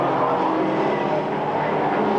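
Touring race cars from the 1989 British Touring Car Championship, including a Ford Sierra, roar past in a loud, continuous blur of engine noise close by, with no voices.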